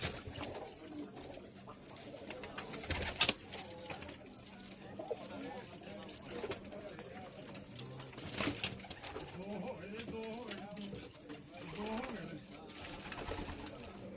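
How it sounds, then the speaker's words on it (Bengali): Soft, repeated cooing of black-eyed pigeons close by at a pigeon-flying competition in Kuwait, layered with rustling and occasional sharper bird calls, with a voice talking at points. "এই কবুতরটা দেখেন, কালো চোখের কবুতর।"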